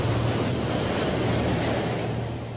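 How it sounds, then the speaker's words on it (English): Ocean waves and surf roar as a loud, continuous broadband wash, steady throughout with a slight fade at the end and no voices. "they can generate killer waves called tsunamis"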